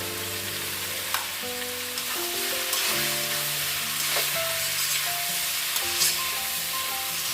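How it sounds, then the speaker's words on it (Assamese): Chicken curry with spinach, meat masala and red chili powder fries in a pan, with close, steady sizzling and repeated scraping stirs and light clinks of a spoon, no talking. "মই এতিয়া আকৌ 5 মিনিটমানৰ কাৰণে এনেকৈ ভাজি ল'ম"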